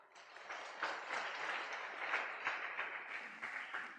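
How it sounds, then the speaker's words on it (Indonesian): An audience at a Buddhist dharma talk claps in sustained, even applause throughout, a dense patter of many hands heard from within a large room. "Tepuk tangan untuk Anda dulu."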